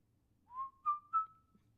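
A person whistles a short tune at a casual Friday night hangout: three clear, rising notes, the last held, fairly quiet and alone with no talking.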